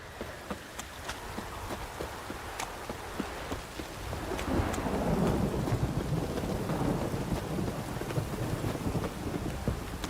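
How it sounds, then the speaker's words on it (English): Heavy rain pours down in a game scene, a dense steady hiss that swells louder midway, with sharp crackles and rumbles of thunder scattered through. "This downpour's a bastard,"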